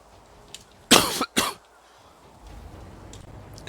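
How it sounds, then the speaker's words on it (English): Two harsh coughs in quick succession from someone close to the microphone, then a quiet room hum, with a Satisfactory game session running in the background. "Again, I apologize for the coughing."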